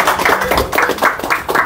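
A group of people claps at the opening of a new showroom. The claps come in a few loud, rhythmic bursts, close by and with no talk over them.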